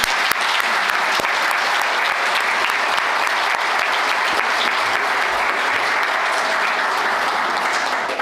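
An audience at a ceremony honoring the 40th anniversary of the Tio Xico folk dance group in Caxias do Sul gives sustained applause, a dense, even wash of clapping that stays loud and constant throughout.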